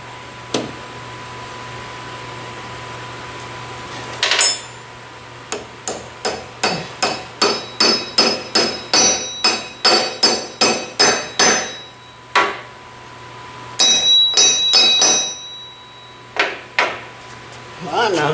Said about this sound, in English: I'm trying to find a smaller hammer